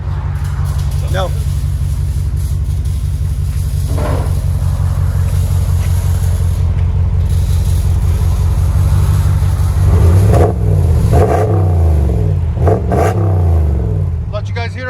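A RAM 1500 pickup's 5.7 HEMI V8 idles with a deep, steady rumble through an aftermarket exhaust, then blips the throttle several times in quick, loud revs near the end.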